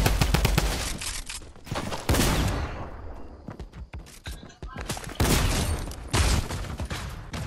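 Rapid bursts of automatic gunfire crackle in a Fortnite match, loud and dense at first, thinning mid-way, then returning in heavy volleys, with voices talking underneath.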